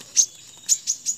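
A hummingbird gives four short, high, thin chirps in quick succession as it is released, clear and close against near silence.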